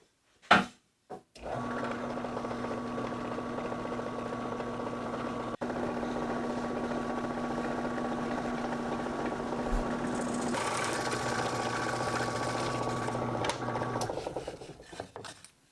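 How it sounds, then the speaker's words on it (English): A Forstner bit drills into wood, giving a steady, loud mechanical whir with a constant hum that runs for over ten seconds, a brief gritty cutting texture, then spins down and stops. "This is the perfect chance to use the serrated edges on my new Forstner bits."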